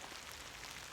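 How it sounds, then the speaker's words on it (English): Rain drums steadily on treated Kodiak leather hide outdoors, a dense, faint hiss of countless small drops with no voices. "If you can see, that water is just beating up on there from the rain."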